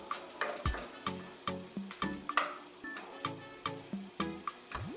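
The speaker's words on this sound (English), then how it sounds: "we're just going to get this, and it's going to cook for a little while, but we just want to get the onion a little bit soft" Onion frying in a heavy pan for a turkey curry, soft sizzling under a series of sharp, regular clinks and taps from stirring or utensils, roughly two or three per second, close and fairly loud.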